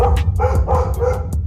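Several dogs bark and yip in quick, overlapping bursts during a scuffle among them, loud and close, with no pause over the whole short stretch.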